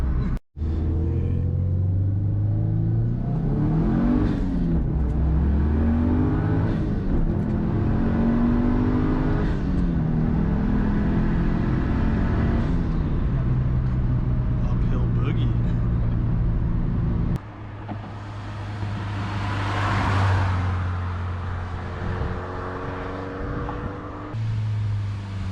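A 2007 Subaru WRX engine strains on a dyno, its loud, steady roar rising and falling through repeated revs, with a brief drop in load partway through before it climbs again.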